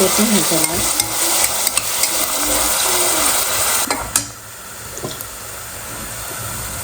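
Onions fry in a pan for masoor pulao, with a loud close sizzle and bursts of vigorous stirring and scraping that drop to a quieter steady hiss in the final seconds.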